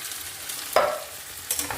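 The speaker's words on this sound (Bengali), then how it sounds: "এখন একটু নেড়ে চেড়ে দিব" Beans are stirred into ketchup and oil in a pan, with no onion, giving a couple of soft scraping stirs over a faint, low sizzle, close and quiet.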